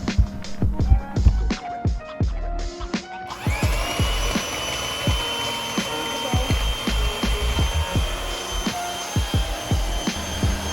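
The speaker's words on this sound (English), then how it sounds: "Victoria is using our hand mixer to mix well" A hand mixer beats Jell-O cheesecake batter in a bowl. A sharp series of rhythmic clicks and knocks comes first, then a steady high motor whine joins and keeps running under repeated clatter of the beaters.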